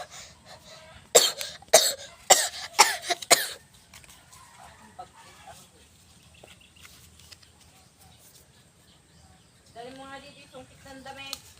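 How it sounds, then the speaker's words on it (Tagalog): A group of people cough several times in a quick burst of sharp, loud hacks, followed by quieter background noise and some faint voices. "umubo kayo."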